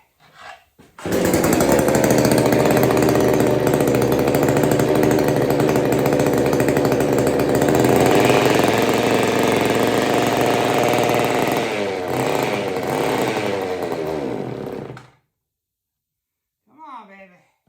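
A Homelite 150 or McCulloch 610 chainsaw runs on choke, a loud, steady two-stroke roar held for about fourteen seconds with a slight dip in pitch near the end, then cutting out into silence before a brief voice.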